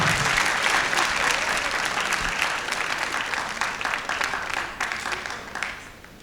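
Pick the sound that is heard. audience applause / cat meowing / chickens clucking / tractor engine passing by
audience applause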